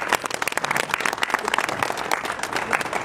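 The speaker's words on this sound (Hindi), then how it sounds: "एक बार खड़े होके तालियों के साथ आप स्वागत करेंगे" An audience at an event in Hisar stands and applauds to welcome a guest, producing loud, dense clapping with distinct sharp claps rising out of the steady wash, close and continuous for the whole stretch.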